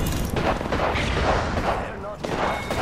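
Grenade blasts and gunfire in the video game Apex Legends, a dense run of booming, crackling bursts at steady loudness with little pause, with a voice in the clip.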